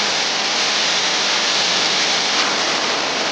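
Hulo Falls in Cavite gives off a dense, even roar of falling water, loud and constant throughout with no breaks and no speech.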